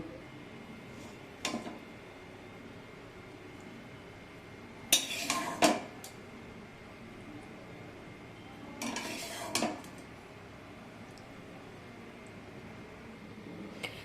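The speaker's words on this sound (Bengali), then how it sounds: "এবার এটাকে আমি একটা পাত্রে তুলে নেব" Spinach curry with bori (lentil dumplings) scraped and spooned from a cooking pan into a serving pot, with a few separate clinks and scraping bursts of utensil against metal spread across a quiet kitchen background.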